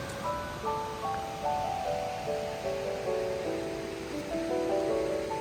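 High, fast-running water of Barclay Creek near Baring, Washington, a steady broadband rush with gentle surging swells, close and fairly loud, heard alone without talk.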